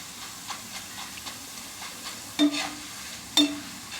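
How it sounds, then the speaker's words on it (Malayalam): Jackfruit pieces fry in hot oil in a pan, giving a continuous sizzle and hiss. Soft stirring scrapes repeat in a regular rhythm, and two louder clanks stand out near the end. Nobody speaks. "നമുക്കിത് മുഴുവനൊന്ന് വറുത്തെടുത്തിട്ട് വരാം."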